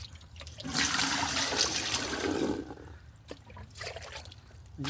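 Water runs into a pan in a garden setting, a steady rushing pour that swells, then tapers into lighter trickles and splashes.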